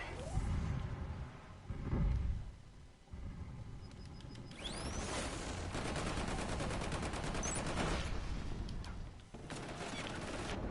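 Gunfire from a deployed turret in the online multiplayer shooter Killzone Shadow Fall, with rapid bursts and sustained crackling volleys mixed with booms and whooshes throughout the clip.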